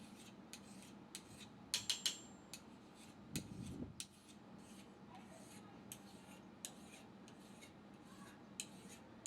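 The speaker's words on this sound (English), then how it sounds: "I finish the habaki the traditional way by filing and sanding it." Quiet, intermittent scraping and rasping strokes of a file against a metal katana habaki being hand-filed and sanded, with scattered light taps and clinks at irregular intervals.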